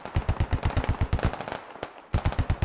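Rapid bursts of automatic gunfire from the video game Squad, loud and close, firing in quick rhythmic strings with a brief pause before another burst.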